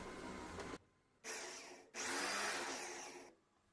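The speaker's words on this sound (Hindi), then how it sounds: "अब इसमें एक बार ड्रिल मशीन लगा कर टेस्ट कर लेते हैं।" A drill spins an old car window DC motor used as a generator, giving loud whirring bursts in three separate runs with brief pauses between them.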